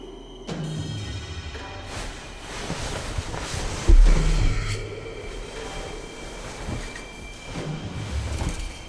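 A moving train rolls on with a steady low rumble and rattling carriage noise, a heavier thump partway through, and faint clanks throughout, with no talking.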